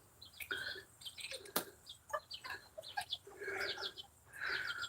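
Hens cluck and murmur in short, uneven bursts nearby, with a few sharper squawks among them and no talking.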